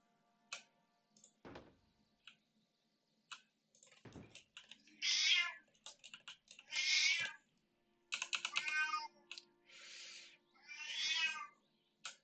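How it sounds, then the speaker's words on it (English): A noisy shelter cat meows repeatedly, several loud drawn-out cries spaced across the span, with faint ticking and clicking sounds in between and no talk. "Why'd you have to pick the noisy cat at the Humane Society?"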